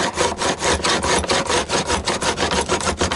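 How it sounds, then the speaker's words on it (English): A metal file is rubbed in quick, rhythmic back-and-forth strokes across the frets of a Stratocaster-style guitar neck, beveling the fret ends. The rasping scrape is close and loud, with no talking. "not to allow the file to skip across the frets"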